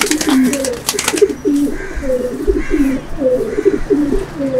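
Pigeons in a loft, including a Beater hen, cooing in repeated rolling calls close by, with faint chatter and background noise underneath.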